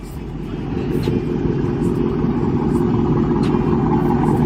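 A motorcycle fitted with an aftermarket Carbon Exhaust system runs steadily nearby, its loud, continuous low rumble holding at an even level throughout.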